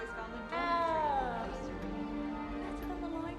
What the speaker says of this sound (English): Don't need to be frightened, little cat.